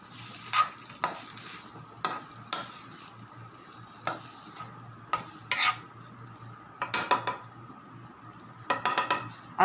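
Food in a pan stirred with a spoon, sharp metallic scrapes and taps against the pan every second or so over a low background hum, close and fairly loud, with no speech.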